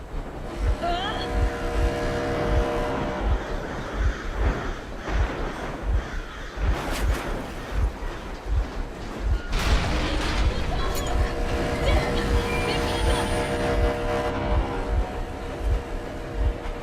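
Vehicle engine running in the video game Metro Exodus: a steady low rumble with regular thudding pulses, swelling into louder broadband bursts midway, with voices faintly present.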